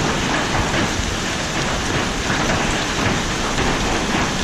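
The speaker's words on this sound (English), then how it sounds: "It was hailing so hard I couldn't even hear in here." Hard hail pounding a roof and surroundings during a severe storm, a dense, steady roar of impacts filling the space at constant loudness, no voices.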